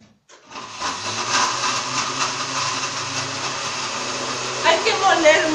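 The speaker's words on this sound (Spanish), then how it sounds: "Vamos a molerla." An electric blender grinds raw potato for a face mask. After a brief silence, its motor kicks in with a loud, steady whirring roar that rises slightly toward the end.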